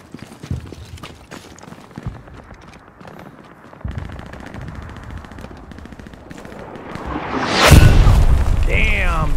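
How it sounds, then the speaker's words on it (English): Artillery fire in the World War 2 shooter Hell Let Loose: repeated booms and bursts of gunfire build into a loud, heavy blast near the end, with voices talking over the barrage. "that artillery is no joke right now"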